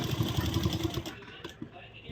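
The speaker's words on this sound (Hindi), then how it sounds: "सेम उसी पे सिलाई लगानी है" A sewing machine runs stitching blouse fabric for a shawl-collar blouse, a fast rhythmic whir for about a second before it stops, with low background noise after.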